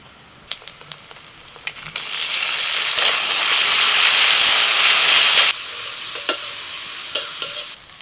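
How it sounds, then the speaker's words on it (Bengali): Ginger, garlic and green chilli paste hits hot oil with fried onion in a wok. A loud sizzle and hiss swells for a few seconds, then drops, with stirring clinks and scrapes throughout. "পেঁয়াজটা ভালো করে ভাজা হয়ে যাওয়ার পর দিয়ে দিচ্ছি আদা রসুন আর কাঁচা লঙ্কা বাটা।"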